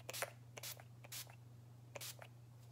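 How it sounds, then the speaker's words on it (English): Several short hissing spritzes of makeup setting spray misted over powder, close and soft, spaced irregularly over a low steady hum. "I'll go ahead and spray this over all the powdery things I just did."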